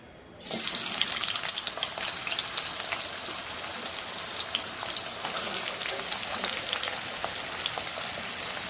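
Potatoes frying in hot oil in a wok, a loud, dense crackling sizzle that starts abruptly and runs steadily throughout, close and with no talk.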